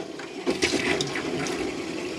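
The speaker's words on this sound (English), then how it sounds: "making sure the pump's on to pressurise the water through" Tap in a Swift Select 122 caravan running pump-pressurised water: a steady close gush of flowing water with splashing, heard alone.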